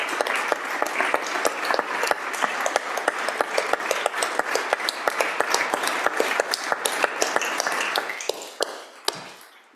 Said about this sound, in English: A big round of applause for the members of the Wyoming Nonprofit Network.